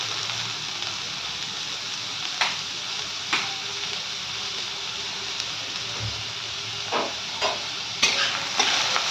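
Onions fry in a little oil in a pan with a constant close sizzle and crackle, broken by scattered spatula taps and scrapes that come more often toward the end, with no talking.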